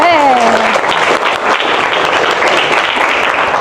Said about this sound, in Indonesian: Sekali lagi boleh tepuk tangan untuk Mbak Yanti